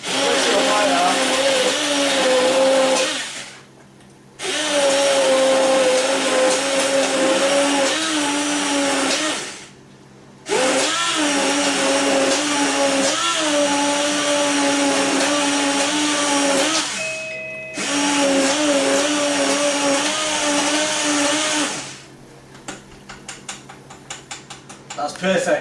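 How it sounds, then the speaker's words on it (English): A hand blender whirs loudly in long continuous bursts, stopping briefly a few times before starting again. "These hand blenders are perfect."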